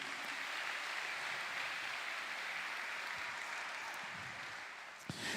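A church congregation applauds during a sermon, giving steady, even clapping that fills the room at a moderate distance and fades slightly before a final sharp clap.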